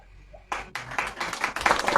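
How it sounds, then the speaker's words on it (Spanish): Applause at a political candidates' debate in Buabiti, Ngäbe-Buglé comarca, starting abruptly from near silence and swelling into dense clapping from an audience, growing louder to the end. "fuerte el aplauso"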